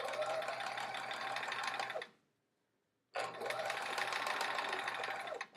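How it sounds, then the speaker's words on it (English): A sewing machine stitches quilt block seams in two rapid, steady runs of buzzing clatter, separated by a one-second pause, close and clear with no talking. "I'm kind of sewing to that center, making sure I'm getting those seams kind of nested"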